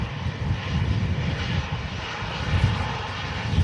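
An EasyJet Airbus A320 jet engine roars steadily and loudly on approach in strong crosswinds at Manchester Airport, a continuous close broadband rumble with no voices.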